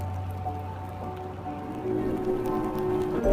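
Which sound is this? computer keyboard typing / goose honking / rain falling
rain falling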